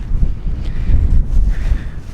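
Strong mountain wind buffets a tent, a loud, close, low rumbling roar with gusty fluctuations throughout.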